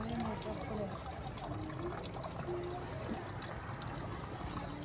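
Water pours steadily into a bucket filled for rinsing rice in a Pakistani home kitchen, a constant low rushing trickle running the whole time, with faint voices in the background.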